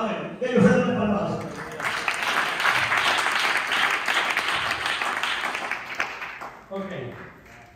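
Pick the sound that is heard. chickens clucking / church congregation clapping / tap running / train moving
church congregation clapping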